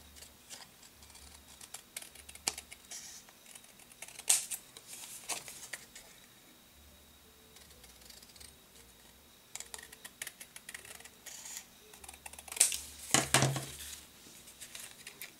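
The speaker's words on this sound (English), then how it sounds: "I'm just going to trim it down a bit. Okay. Grab some scissors." Scissors snip and trim paper for a handmade card, producing faint, sparse cuts and rustles close by in a quiet room, with a louder cluster of paper handling near the end.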